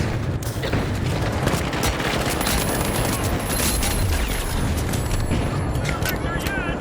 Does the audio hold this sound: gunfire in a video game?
yes